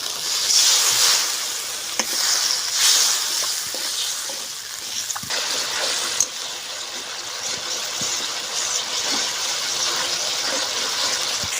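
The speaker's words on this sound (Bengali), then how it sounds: "সরষের তেল দিয়ে দেবো। হালকা একটু জল দিয়ে মশলাগুলো কষিয়ে নেব।" Spice paste with salt and a little water fries in mustard oil, giving a loud continuous sizzle that keeps going throughout, broken by scraping stirs and soft clacks of a spoon against the pan, with no talk.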